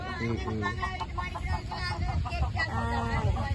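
Chickens cluck in short, repeated bursts close by, over a steady low background rumble.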